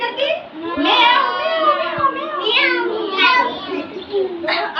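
A child at an anganwadi preschool imitates a cat's meow, repeating drawn-out wavering mews several times close and loud, with other children's voices around.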